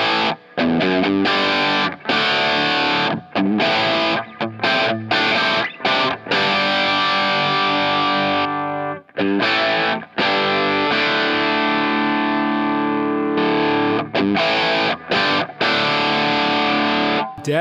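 Heavily overdriven electric guitar through a Klon overdrive pedal with gain up, chugging and sustaining chords, thick and loud, with short breaks between riffs and no talking.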